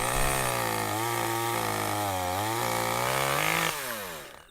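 Chainsaw running steadily and loudly up close while a tree is pollarded on a farm, its pitch wavering as it works the cut, then dropping off at the end.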